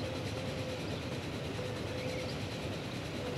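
Train in the Transport Fever video game rushing through a station, a steady loud rumbling roar with faint tonal whine, continuous throughout with no talk.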